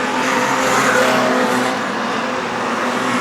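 Street stock cars race around an oval track, engines roaring loudly and continuously with some tire noise, a dense, close mix of several cars with no clear breaks.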